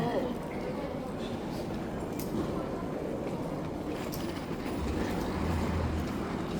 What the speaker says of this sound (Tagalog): Sakay kami ng train.